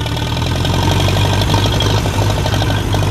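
A grey Ferguson TEA tractor engine runs close by with a loud, steady chugging idle and a faint knocking rhythm, and a sticky throttle is noted as all or nothing.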